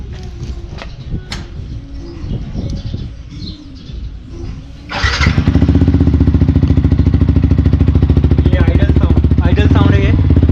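A Yamaha YZF R15 V3 BS6 sport bike with VVA starts up partway through, after quiet background sounds, then holds a loud, steady, throbbing idle close by until the end.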